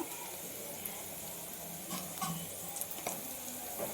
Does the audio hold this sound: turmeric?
yes